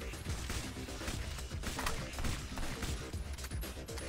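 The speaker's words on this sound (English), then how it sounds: "Dual pistols, everybody." Dual pistols in the game Alien Shooter 2 fire a dense, continuous rattle of rapid shots with crashing impacts, loud and unbroken throughout the short stretch.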